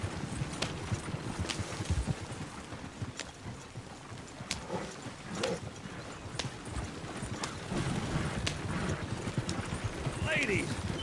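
Hooves clip-clop steadily as a horse trots in Red Dead Redemption 2, with evenly spaced hoofbeats heard close, along with occasional snorts and someone talking over them.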